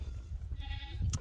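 A goat on a farm gives one clear, wavering bleat over a low rumbling background, with snow expected and no voices.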